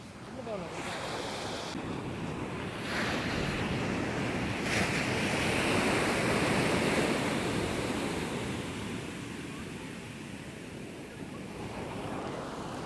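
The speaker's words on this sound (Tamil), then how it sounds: "கடல் கொஞ்சம் சரியில்லை மோசமாக இருக்குது" Rough sea waves break continuously on a beach at Pandiruppu near Batticaloa, a loud, steady roar of surf with gusty wind noise buffeting the microphone throughout.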